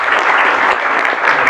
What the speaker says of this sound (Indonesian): Tepuk tangan buat menjawab.